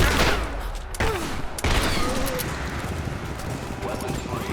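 Gunfire in Rise of the Tomb Raider at the edge of a village, loud close bursts of rapid shots with sharp cracks over a dense battle din.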